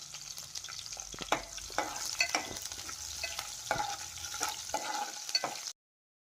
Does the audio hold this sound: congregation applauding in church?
no